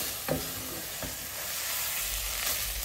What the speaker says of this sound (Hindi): हम सिर्फ इसे 3 से 4 मिनट के लिए भूनेंगे।